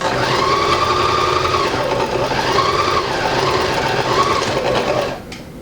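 A sewing machine stitching at a steady speed, its close, loud, rapid mechanical whir and needle chatter running for about five seconds before it stops abruptly.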